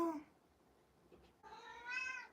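A cat meows twice, a short cry followed by a longer, rising meow, fairly close with quiet background in between.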